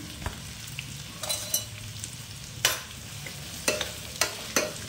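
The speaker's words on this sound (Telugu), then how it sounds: "ఈ ఉల్లిపాయల్ని మనం హాఫ్ బాయిల్ అయ్యేదాకా మనం వేయించుకోవాలి" Onions sizzle with salt in a pan as a base for mutton curry; a steady frying hiss runs underneath while several sharp stirring scrapes land at irregular intervals.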